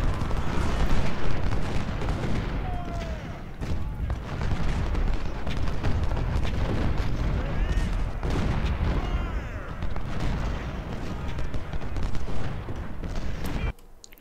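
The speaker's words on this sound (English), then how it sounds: "The cannon's firing it." Civil War cannon artillery and massed musket fire in Ultimate General: Civil War at the Battle of Cold Harbor, a dense continuous roar of booms and crackling volleys, loud and sustained, with a voice speaking underneath.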